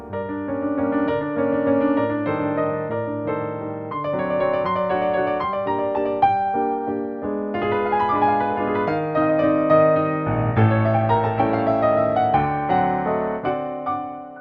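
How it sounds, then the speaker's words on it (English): Yamaha Clavinova CLP-635 digital piano on its Bösendorfer Imperial grand voice, warm Viennese tone, playing a stately classical passage with full chords and a singing melody, continuous and close for the whole stretch, with no talking. "the legendary sound of the Bosendorfer Imperial, featuring a characteristic warm tone known as the Viennese sound."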